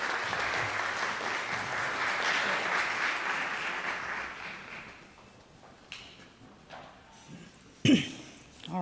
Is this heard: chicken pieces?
no